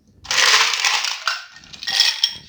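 Ice cubes tumble and crunch into a fresh glass for an Old Fashioned cocktail in a loud rattling pour, with a second smaller clatter after a brief pause.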